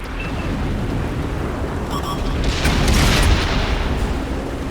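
A tank cannon firing in World of Tanks: a heavy booming blast swells out of a steady engine rumble about midway, then fades back into the drone.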